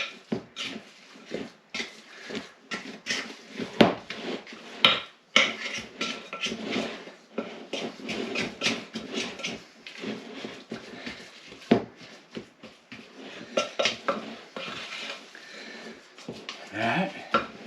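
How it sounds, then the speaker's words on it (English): Mix-ins being folded by hand into cake mix batter for cookie bars in a home kitchen: a close, continuous run of soft scraping, tapping and clinking of utensil against bowl in an uneven rhythm, with no talk. "Just fold them into the mix."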